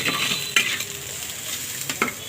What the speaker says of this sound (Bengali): এভাবে আমি নাড়তে থাকবো।